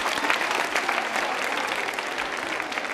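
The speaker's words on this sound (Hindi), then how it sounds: "नॉर्थी के लिए जोरदार तालियां बजाइए" Loud, dense applause from the audience at a college quiz show and women's club New Year event, a steady wash of many hands clapping throughout with no talk over it.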